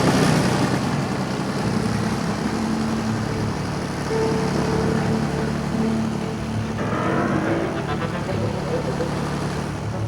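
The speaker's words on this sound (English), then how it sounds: "the Hercules set off down the old runway" A Hercules transport aircraft taxis down an old runway, its propeller engines giving a loud, sustained roar with a steady droning hum that shifts slightly in pitch partway through. No one speaks.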